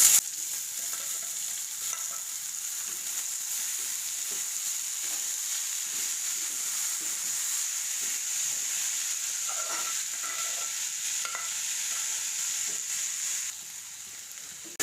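Yardlong beans with onion and garlic fry over low heat in a pan, giving an even, continuous sizzle close by, with occasional soft stirring scrapes and no voices.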